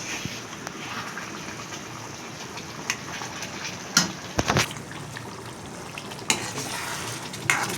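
Prawns and fish coated in semolina and rice flour fry in hot oil with a continuous bubbling sizzle, close by, punctuated by clinks of a utensil against the pan.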